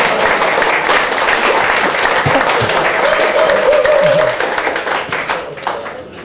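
Audience applause at a party members' rally: a dense, sustained crowd of clapping hands fills the space loudly, then begins to thin and fade toward the end.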